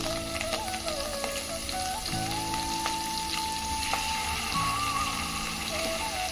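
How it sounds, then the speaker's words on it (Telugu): Eggs with coriander fry in oil in a pan for an egg kurma, with a dense, continuous crackling sizzle and occasional faint scrapes, close and steady throughout. "ఇప్పుడు ఇందులో కొత్తిమీరని యాడ్ చేసుకొని ఎగ్స్ వేయించుకుందాం."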